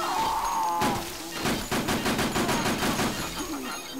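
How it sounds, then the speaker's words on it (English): Rapid gunfire rattles in the zombie action game Dead Rising, a dense burst of repeated shots after an opening thud and tonal game sound, loud and continuous for several seconds. "I'm gonna shoot you in the face."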